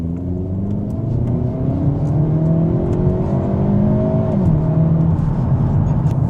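A Hyundai Elantra N accelerates hard in N mode during a drag race against a 2025 Volkswagen Jetta GLI, its engine droning loudly and rising through the revs with a brief shift dip, heard steadily from inside.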